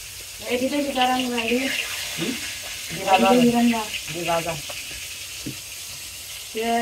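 Two fish fry in a pan with a steady sizzle underneath, while people talk over it and their voices largely mask the frying.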